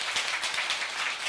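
A lecture audience clapping in thanks, a dense even patter of many hands at moderate level across the brief moment, with no voices on top.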